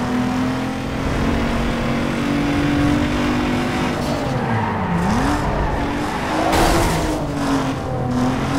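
Mazda MX-5 race cars in Need For Speed Underground 2 drone with steady engine tones while tires screech and skid, the pitch dipping and rising through a slide, loud and continuous.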